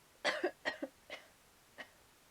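A character in the Silent Hill 2 video game coughs in a short burst, two sharp coughs followed by a few weaker ones, close and clear against a quiet background.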